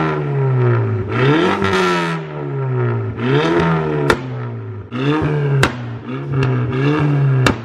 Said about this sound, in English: You go to 5, let it drop to 4, and then rev it in between 4 to 5 right there.